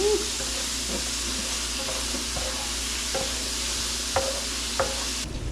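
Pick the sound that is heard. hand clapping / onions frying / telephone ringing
onions frying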